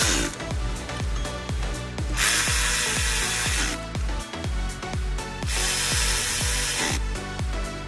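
A ratchet tightens bolts on a Toyota Sienna 3.3L engine during a timing belt and water pump job, giving loud, rapid, evenly paced clicking close by, with no talk.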